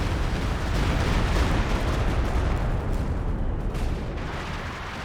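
An artillery barrage in Company of Heroes 2, a dense continuous roar of rumbling explosions that stays loud and close throughout and eases slightly toward the end, with no voices.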